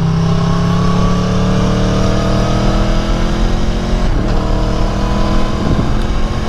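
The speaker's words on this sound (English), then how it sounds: "Aprilia has been developing the V4 engine for a long time." Engine of a 2018 Aprilia Tuono V4 motorcycle on a test ride, a loud, steady, close drone that hums without pause and shifts slightly in pitch, heard alone without any talk.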